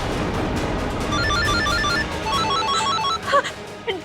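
A telephone rings in the Hindi television drama Nath Zevar Ya Zanjeer: a repeated electronic ringtone melody of chirping tones runs for several seconds over a dense background, close and fairly loud, and no one speaks over it.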